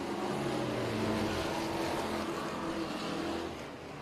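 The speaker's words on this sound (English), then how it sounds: "Chris Murray back on the gas." Street stock race cars accelerate hard after the green flag at a short track championship feature, a loud continuous engine roar that holds steady and fades slightly at the end.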